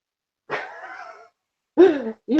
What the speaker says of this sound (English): You hear my dog in the background?